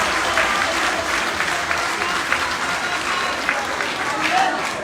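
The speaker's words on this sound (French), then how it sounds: "je vous demande de le féliciter et l'applaudir." Crowd at a Dakar civic ceremony applauding the honorary mayor, a sustained dense rattle of clapping with a few sharper claps and cheers poking through, and voices murmuring underneath the whole time.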